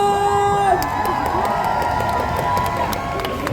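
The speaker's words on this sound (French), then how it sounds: "Encore plus fort, on peut l'applaudir" A festival crowd cheers, whoops and applauds at a Paris fan festival, loud and sustained, with shouts rising over a steady wash of clapping and a few voices calling out near the front.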